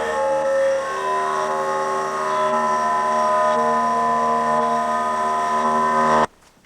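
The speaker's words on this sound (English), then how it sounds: "what the noise you just heard was from the compressor." A steady mechanical drone from an air compressor refilling its tank runs loud and continuous for several seconds, then cuts off abruptly.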